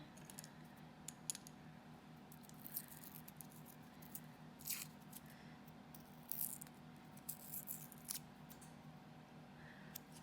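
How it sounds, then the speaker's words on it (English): Close, quiet crinkles and small tearing scratches as a paper wrapper is peeled off a wax crayon, arriving in short irregular bursts over a low steady background hum. "I am just taking the paper off of the very last crayon here."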